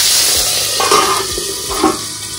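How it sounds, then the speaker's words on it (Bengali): Fish sizzling in hot oil in a pan as the first step of a Bengali fish curry, with a steady crackle, occasional stirring and clinks of utensils against the pan, close and fairly loud with no talking. "এখানে মাছ ভাজা হচ্ছে"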